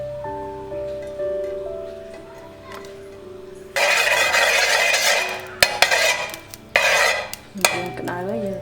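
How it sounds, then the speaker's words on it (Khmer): A cooking pot set onto a stove for a Cambodian chicken and banana flower soup, followed by oil poured in, with loud bursts of clatter and sizzle-like noise in the second half after quieter background tones. "ចានេះយើងដាក់ឆ្នាំងលើចក្រានទៅ ចាបើកភ្លើងហើយចាក់ប្រេងឆាចូលតែបន្តិចបានហើយ"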